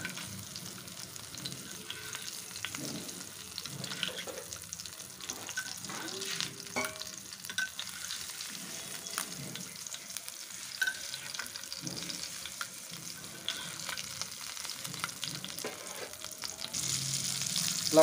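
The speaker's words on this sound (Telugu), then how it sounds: "ముందుగా మసాలా కలిపి పెట్టుకున్న ఈ ఫిష్ని అయితే ఆయిల్లో ఇలా వేయించుకోవాలి లో ఫ్లేమ్లో" Marinated fish fries in hot oil over a low flame, a steady soft sizzle and crackle running throughout with occasional spatters, fairly quiet and close, no voices over it.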